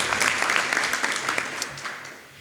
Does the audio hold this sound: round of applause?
yes